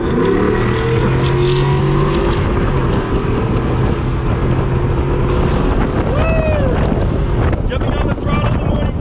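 Ford F150 with a 5.0 V8 and CORSA Xtreme exhaust at full throttle, heard from inside the cabin with windows down: a loud, steady engine roar heavily mixed with wind rush, and a rising pitch sweep near the end.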